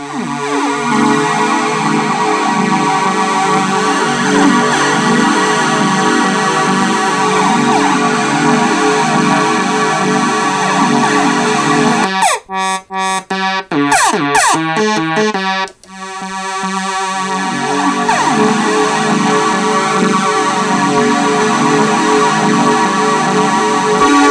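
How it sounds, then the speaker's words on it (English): A Solton Project 100 keyboard playing its string sound number 3, a loud sustained synthetic string tone holding steady chords throughout, with a brief choppy broken passage midway before the sustained tone returns, no voices. "We use here the string sound number 3."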